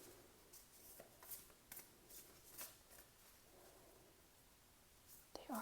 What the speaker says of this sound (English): I do like how they shuffle.